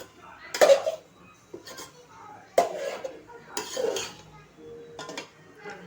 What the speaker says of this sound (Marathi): एक 2 मिनटं आपण परतूया.